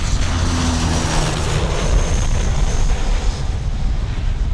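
A Dash 8 turboprop airliner at Sydney Airport makes a loud, steady roar of engines and propellers, close and continuous throughout with no voices.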